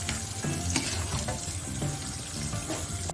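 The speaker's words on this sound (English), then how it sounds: "Wash the noodles with tap water." Cooked spaghetti noodles rinsed under a running kitchen tap, a steady splash of water into a sink with soft clatter and stirring sounds throughout.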